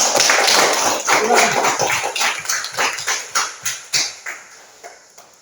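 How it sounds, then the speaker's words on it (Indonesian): A classroom of children claps for a group, a dense burst of applause that thins into slower, separate claps and fades out. "mari kita beri tepuk tangan untuk kelompoknya"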